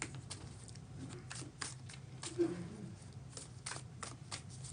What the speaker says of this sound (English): Give this last deck a good shuffle.